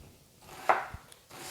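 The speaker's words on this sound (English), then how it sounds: "a good way to keep your eyes from watering while you're chopping up onions" Onions are chopped with a knife on a kitchen cutting board while seafood-stuffed bell peppers are prepared, a few quiet close knife strikes and light rubbing with no talking.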